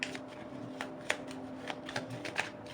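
Tarot cards being shuffled and drawn, soft quick riffles and light flicks of card stock, close and quiet, in a short run of irregular taps.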